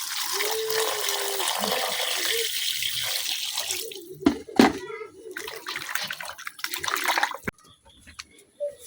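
Running tap water splashes over freshly cut pieces of tough, older village duck meat being washed by hand, a steady loud stream for about four seconds, then broken splashes, clatter and a few low voices.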